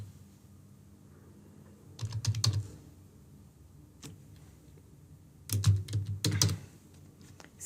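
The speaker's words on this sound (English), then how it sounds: "I'll again enter the test card details over here." Fingers type card payment details on a computer keyboard: two short, close bursts of rapid key clicks separated by a quiet pause, with a lone tap in between and no voices.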